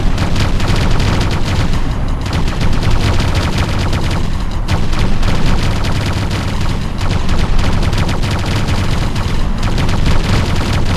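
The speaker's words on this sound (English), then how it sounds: "Order forces have deployed mobile howitzers outside the passage. Expect incoming artillery fire." Incoming artillery fire from mobile howitzers in the Ground Control strategy game, a loud continuous barrage of blasts and crackling gunfire that stays dense and unbroken throughout.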